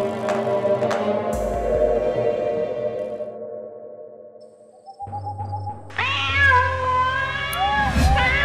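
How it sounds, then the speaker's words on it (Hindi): A cat meows plaintively, with a long wavering cry rising and falling, loud and close, over a faint background tone. "वो बिल्ली रो रही है"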